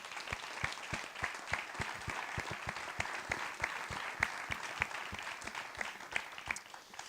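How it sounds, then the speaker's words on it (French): An audience applauds a team at a ceremony honouring top apprenticeship students, with fairly soft, steady clapping and distinct individual claps throughout, and no talk over it. "je voudrais qu'on applaudisse et qu'on remercie aussi cette équipe-là"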